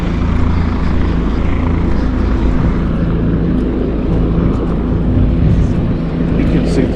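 Helicopter flying over a waterfront esplanade in Cairns, a steady loud rotor and engine rumble with faint blade thump, continuous throughout, while a person talks over it.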